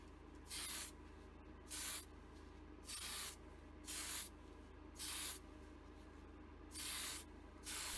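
Primer is sprayed from a can onto a restored Matchbox No.28 Jaguar Mk 10 model car in short, even hissing bursts, about seven of them spaced roughly a second apart, close and fairly faint with quiet pauses between.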